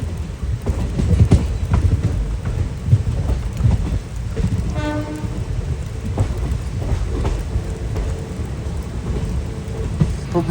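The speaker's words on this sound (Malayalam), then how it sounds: "നമ്മുടെ പാസഞ്ചർ കണ്ട് ഇവിടെ നിന്ന് വിട്ടിരിക്കുകയാണ്." Talguppa–Shivamogga passenger train pulling away in light monsoon drizzle, a steady rumble of rolling wagons with a brief horn-like tone midway, rain hiss underneath throughout.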